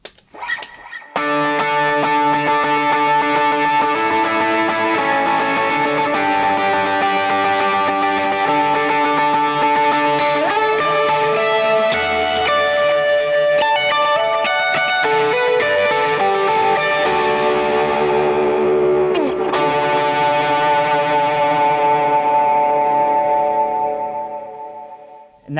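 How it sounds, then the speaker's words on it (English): Electric guitar played through a Klon overdrive, with a Prince of Tone pedal and a boost kicked in partway, ringing out a sustained, saturated lead line with chorus-like shimmer and echo, loud and alone. "I'm going to turn the Klon on, and about halfway through, I'm going to kick in the Prince of Tone and maybe throw on my boost on top of that."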